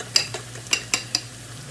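Beaten eggs whisked briskly in a bowl for tuna and eggs, four or five quick clinking taps of the whisk against the bowl over a low background hum, close and moderately loud.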